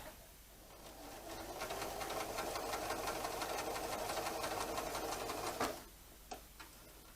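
A sewing machine stitches fabric for a mini flying geese quilt block, running in a fast, even whirring chatter for about five seconds before stopping, followed by a couple of small clicks.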